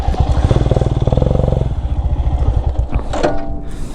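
A motorcycle stuck and sinking in mud, its engine revving loud and close in a steady throbbing pulse, then easing and spluttering as it strains, with no talking.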